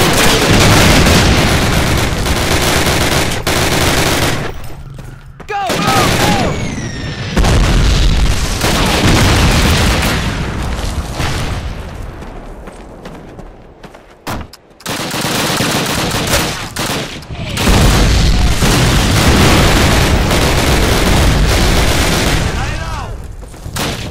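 Call of Duty battle at Brecourt Manor, with dense continuous gunfire, machine-gun bursts and booming artillery blasts, loud throughout with brief lulls, a voice heard among the combat.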